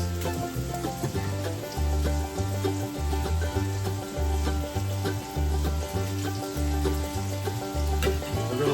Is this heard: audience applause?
no